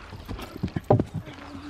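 A pony trots over a jump course, its hooves clip-clopping in a quick uneven series of close, sharp knocks, the loudest hits near the middle.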